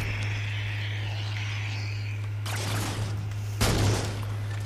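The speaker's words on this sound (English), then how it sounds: "Stop shooting me!" Gunfire in the video game Halo 4: a steady hum runs beneath a dense burst of shots that starts midway, then a louder, sharper volley near the end, all close and with no talk.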